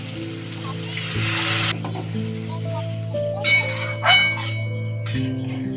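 Water poured into a pan of fried eggs in a spice paste, a burst of loud hiss and sizzle over a steady hum, followed by a few shorter sizzling flares and a clatter.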